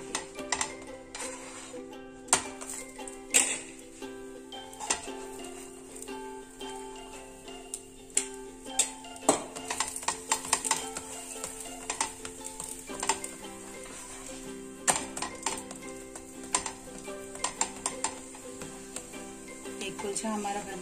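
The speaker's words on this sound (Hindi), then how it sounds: "अब हमें इसके ऊपर ये तवे पे डालना है और इसके ऊपर लगाना है घी" A kulcha cooks on a tawa griddle with ghee, giving a steady close sizzle broken by frequent light clinks and taps, over a constant tonal hum.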